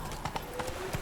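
Horse hooves clip-clopping in The Witcher 3, a brief run of four or five evenly spaced hoof knocks, moderately near and soft against a faint game background.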